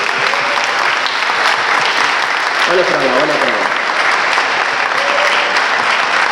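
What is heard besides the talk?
congregation applauding in church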